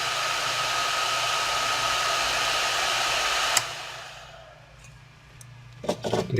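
A cooling fan in an Intel uscope 820 power supply whirs loudly and steadily, then spins down after a click and fades to a quieter hum, followed by a few clicks and bumps of handling.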